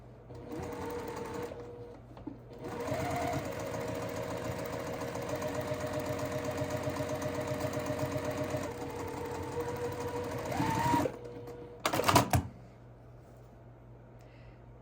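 Sewing machine stitching the curved seams of an allium floral quilt block, running in one steady, close mechanical whir for about eight seconds, pausing, then giving a short final burst of stitches.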